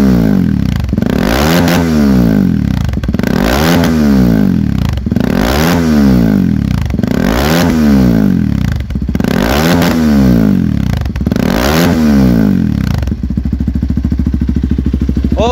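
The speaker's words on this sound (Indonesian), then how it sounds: "itu dia suara dari KLX 230 SE yang udah menggunakan knalpot racing" A Kawasaki KLX230 SE dirt bike with a loud racing exhaust is revved repeatedly, six sharp blips rising and falling in a steady rhythm, close by, then settles to idle.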